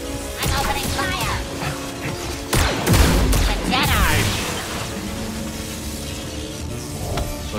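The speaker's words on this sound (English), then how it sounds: "I'm opening fire!" Blaster gunfire in the Star Wars Jedi: Survivor video game rings out in repeated bursts, with zapping shots and impacts over a steady game soundscape, peaking mid-clip and easing after.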